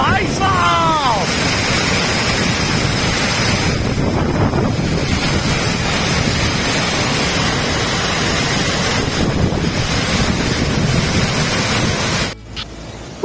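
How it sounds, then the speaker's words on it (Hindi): Kempty waterfall in Uttarakhand pours in a steady, loud broadband roar through the whole stretch, with wind buffeting the microphone and voices talking over it before it cuts off near the end. "ये नीला आसमान और हमारे पीछे है कैंपटी वाटरफॉल"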